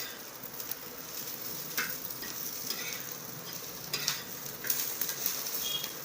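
Whole spices sauté in a pan with a steady, soft sizzle and occasional scrapes of stirring, faint and continuous with no talk.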